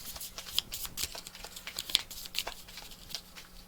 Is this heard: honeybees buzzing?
no